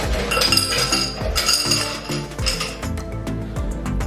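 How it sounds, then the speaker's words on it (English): Fresh ice cubes tumble and clink into a Collins glass while a La Paloma cocktail is made, a busy, bright jangle of cubes striking glass and each other, close and continuous. "add new ice to our Collins glass,"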